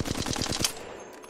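A rapid burst of automatic gunfire from Apex Legends, about eight or nine evenly spaced shots in quick succession, loud and close, followed by a short ringing tail.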